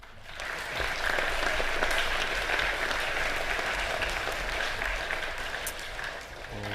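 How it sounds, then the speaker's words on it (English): Sustained applause from an audience of schoolboys at an academic awards assembly, swelling quickly and holding steady at moderate volume. "One last round of applause"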